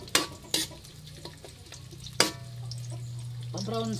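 Ginger and garlic sauté in a hot pan, with a steady sizzle throughout, punctuated by a few sharp stirring clanks of a utensil against the pan.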